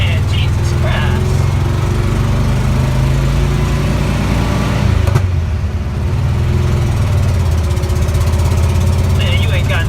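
An air-cooled Volkswagen Beetle engine with a new exhaust runs steadily close by, a loud, rough, continuous drone that dips briefly near the middle, with voices heard under it.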